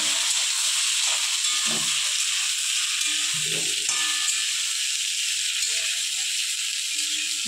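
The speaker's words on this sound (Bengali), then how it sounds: "এবার আমি ঝিঙাটা দিয়ে দেবো।" Ridge gourd added to hot oil tempered with nigella seeds for jhinge posto, a loud, steady close-up sizzle and hiss filling the whole stretch with faint stirring underneath.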